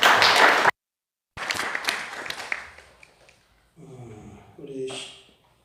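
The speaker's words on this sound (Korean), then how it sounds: "박수 드리겠습니다." A church congregation at a revival service gives a loud burst of applause that cuts off abruptly, then resumes as scattered clapping that fades away before voices speak.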